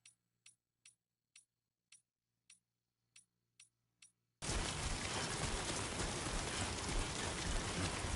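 Rain in the video game Death Stranding 2 comes in as a loud, steady hiss of downpour after a few seconds of a sharp, evenly spaced ticking. There is no talk.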